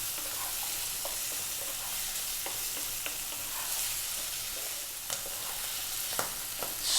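Cooked chickpeas fry in a pan with turmeric and spices, a steady soft sizzle broken by scattered scrapes and taps of stirring, no talking.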